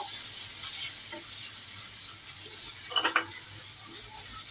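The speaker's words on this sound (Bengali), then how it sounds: "দিয়ে ভালো মতো নাড়াচাড়া করে দিব" A spoon stirs spiced food sizzling steadily in a pan, with a blend of homemade masala, for a tiffin snack; a few soft scraping knocks stand out briefly near the end over the constant close frying hiss.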